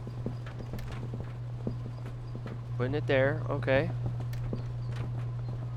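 A horse in the video game Schedule 1 clip-clops in a soft, even rhythm of hoofbeats over a steady low hum, while someone speaks briefly over it.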